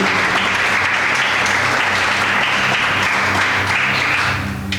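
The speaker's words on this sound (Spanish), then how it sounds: "Levantemos una ofrenda de aplausos al Rey de Reyes y Señor de Señores." Church congregation applauding during a service, dense sustained clapping that fills the room loudly and evenly before tapering slightly at the end.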